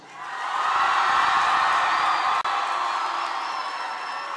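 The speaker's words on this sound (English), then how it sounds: "Everybody, let's give a cheer to your parents." A school audience at a 7th grade poetry slam cheers and whoops for their parents, a loud sustained roar of many voices rising quickly and holding steady, with no distinct speech.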